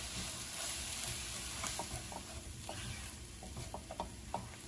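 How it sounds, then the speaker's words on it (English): Faint sizzling and stirring of ground lupin tossed with cauliflower in hot oil in a pan, a soft steady fry with scattered light clicks of a utensil. "I'm gonna toss it so that it gets nicely coated with the oil and nicely mixed"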